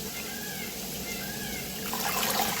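Water runs steadily close by as amaranth greens are rinsed in a sink. The flow grows fuller and louder toward the end.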